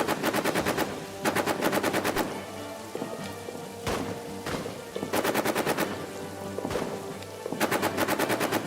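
Machine-gun fire in the trench warfare game All Quiet in the Trenches comes in several rapid bursts of crackling shots, close and loud, broken by short pauses and a few single heavier thuds.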